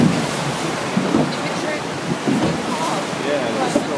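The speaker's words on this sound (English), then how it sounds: "Yeah, the storm in the sea." Stormy sea surf and gusting wind off the coast of Malta near St. Paul's shipwreck site, with waves washing steadily and wind buffeting the microphone throughout, loud and continuous.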